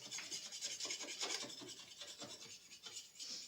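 A sharp metal scraper works rust off a budget surf boat in quick rhythmic strokes, a rasping scrape heard up close with no talking.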